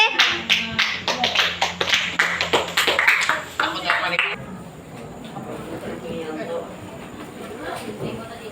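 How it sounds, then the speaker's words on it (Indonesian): Applause from a classroom group for group B, a burst of dense hand clapping with sharp claps over the first four seconds, then fading into murmuring room noise and voices. "Kasih tepuk tangan untuk kelompok B."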